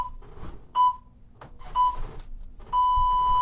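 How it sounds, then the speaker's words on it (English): Three sharp electronic beeps from a workout interval timer sound about a second apart during a shoulder stabilization session, with the last held longer, each loud and clear over a low room background. "Listen out for the 3 beeps for the last 3 seconds."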